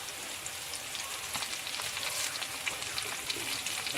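Curry leaves dropped into hot oil for a coconut-based mackerel fish curry give a steady, dense crackling sizzle that stays even and close throughout, with no talking.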